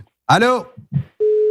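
A voice answers a phone call with a short greeting, followed by a steady, unbroken telephone tone that holds at an even level to the end.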